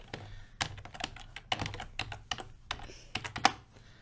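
Rapid clicking keystrokes on a computer keyboard, close and fairly quiet, with uneven bursts and short pauses throughout and no talking.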